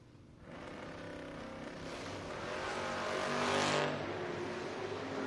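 Drag-racing door cars, a '78 Aspen against a Volare, launching side by side at a 2026 strip event: a loud broadband engine roar that builds steadily, peaks near the end, then eases slightly.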